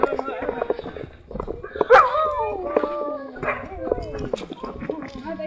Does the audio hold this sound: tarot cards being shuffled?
no